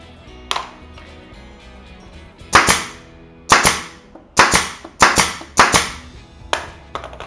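A pneumatic nail gun fires fasteners into hard wood while building a plant shelf: one sharp crack, then a quick series of about six loud, snapping shots, each followed by a short ringing decay.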